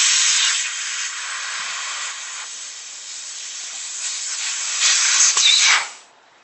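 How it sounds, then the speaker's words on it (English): Nitrogen hissing out of loosened caps on freshly bent tubing, a loud steady close-up hiss that holds for about six seconds, swells briefly near the end, then cuts off. "loosen up these caps, and this should let out and release some nitrogen"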